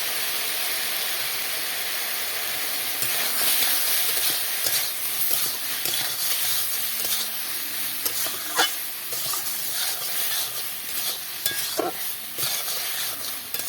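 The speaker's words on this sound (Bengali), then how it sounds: "এই লবণ হলুদটা দিয়ে একটু সামান্য ভাজা ভাজা করে" Ridge gourd pieces fry in a pan with salt and turmeric, a loud, continuous close sizzle broken by repeated scraping stirs of a spatula and no speech.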